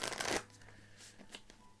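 Tarot cards are shuffled close up in one brief loud riffling burst, followed by faint scattered taps and rustles.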